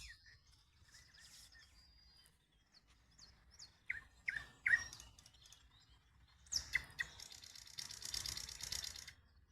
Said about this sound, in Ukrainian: О, соловей дає, так?